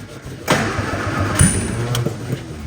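Austin Healey engine with corroded plug ends cranking and trying to start, a steady mechanical churn with a sharper burst near the start and brief catches, loud and close with no talk.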